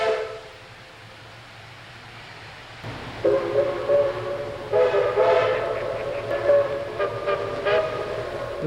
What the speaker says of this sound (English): This is the triple header set of engines getting ready to back up after they've lost the train